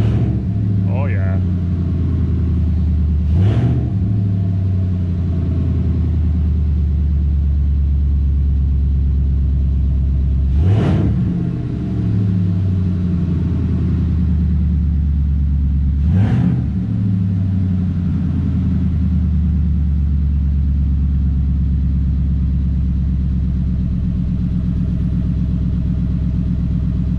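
A Ford Coyote V8 swapped into a car idles with a loud, steady, close rumble, and the gas pedal blips it into three short revs spaced several seconds apart.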